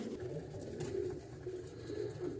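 Racing pigeons in a loft during breeding season coo softly and continuously, a faint, murmuring layer of overlapping low calls at a modest distance.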